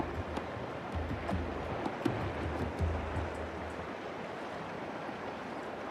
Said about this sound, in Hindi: पानी का करंट बहुत तेज है।